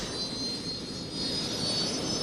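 Search and rescue jet suit engines spool up with a steady, loud jet roar and high whine, holding a constant drone throughout with no voices.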